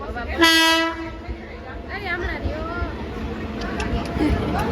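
A loud train horn blares near the start, then the rumble of a train on the rails continues beneath people talking.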